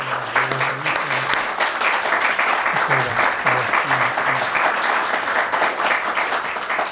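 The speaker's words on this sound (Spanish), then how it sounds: "Un aplauso para él, por favor." An audience at a Spanish-language lecture honouring a writer breaks into dense, steady applause, the clapping loud and continuous throughout, with a voice briefly heard amid it.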